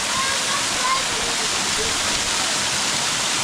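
A waterfall near a village roars as a steady, dense broadband rush of falling water, close and unbroken throughout.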